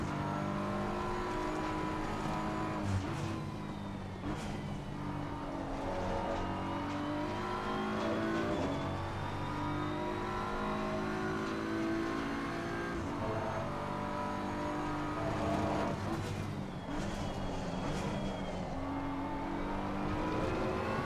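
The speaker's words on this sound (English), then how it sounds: "now I need to be accelerating up the hill, not sliding through the corner like I was." A race car in a racing sim such as Assetto Corsa Competizione or Gran Turismo 7 roars continuously up a hill and through corners, its engine pitch rising and falling with shifts and faint tire scrub, loud and steady with no talk.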